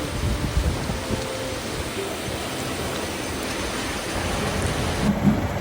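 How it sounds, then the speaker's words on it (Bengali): Heavy rain pouring steadily outdoors, a dense constant hiss of falling water close by with faint low rumbles, no talking. "বৃষ্টিটা কিন্তু বেশ ভালো জোরে পড়ছে"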